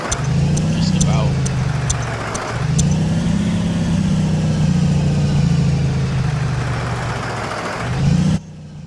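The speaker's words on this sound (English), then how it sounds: "Now this is diesel, so it's definitely louder." A flat-nose diesel school bus engine runs loud and steady, rumbling with shifts in revs as the bus drives, while someone talks over it.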